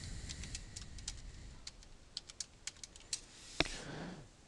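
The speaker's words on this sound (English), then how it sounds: "I'm going to type in the password" A password being typed on a computer keyboard: a string of crisp, separate key taps at an uneven pace, fairly close and quiet in an otherwise still room.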